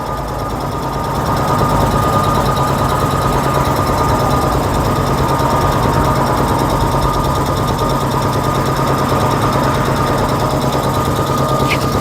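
A used 150-litre air compressor runs loudly close by, its motor starting up after a second and then holding a steady, rapid mechanical chugging hum with a faint high whine.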